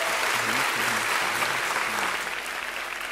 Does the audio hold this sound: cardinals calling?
no